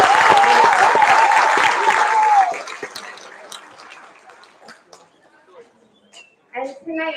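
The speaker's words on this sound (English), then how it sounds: "One last round of applause for our award" An audience at a school board of education meeting applauds for a couple of seconds and the clapping quickly dies away, leaving scattered claps and a few voices speaking after.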